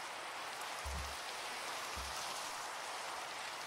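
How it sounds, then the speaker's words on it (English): Steady rainfall in Minecraft, a constant hiss of raindrops with no pauses, plus two brief low thumps partway through; no voices. "now it's raining"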